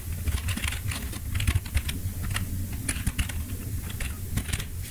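Rapid clicking of keys on a computer keyboard while entering data in an Excel spreadsheet, close and steady with irregular bursts of keystrokes and no talk.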